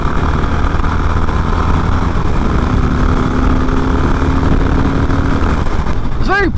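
A 2020 Harley-Davidson Roadster 1200cc motorcycle cruises at speed, with a continuous loud engine drone and wind rush. The sound holds steady throughout, heard from the rider's position.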